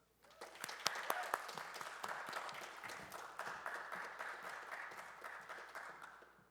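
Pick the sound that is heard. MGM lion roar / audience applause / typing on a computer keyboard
audience applause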